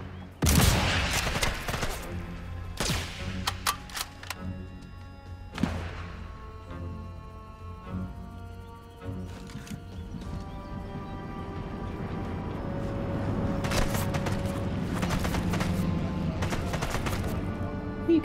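Gunfire in Sniper Elite 5, with sharp rifle shots and bursts scattered across the stretch, some close and loud, others fainter, over a low ambient game bed, with no talk.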